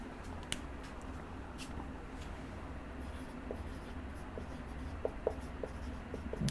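Marker or chalk writing on a classroom board during a physics lesson, a steady faint scratching with small squeaks and taps, continuous over a low room hum with no talking.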